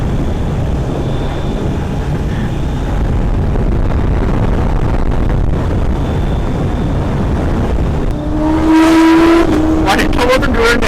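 Kawasaki Z900 and ZX10r motorcycles on a ride in the rain, a steady close engine roar with wind rush, then a sharp rising rev near the end.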